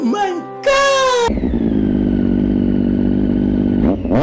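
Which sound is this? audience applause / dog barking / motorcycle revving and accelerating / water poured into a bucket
motorcycle revving and accelerating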